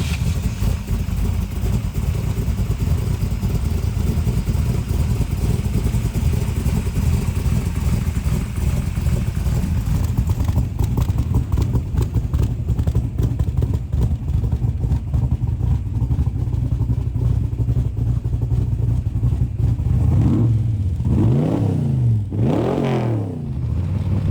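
A 1965 Shelby Cobra Backdraft RT4B with a 427 and side pipes idles loud and close with a rough, steady rumble, then gives two quick throttle blips near the end.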